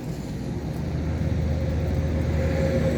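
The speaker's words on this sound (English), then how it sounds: "the county tractor with a brush hog behind it mowing the berm" A county tractor pulling a brush hog mower along a roadside berm gives a steady, loud low engine drone with a constant rumbling hum and no pauses, and no one speaks.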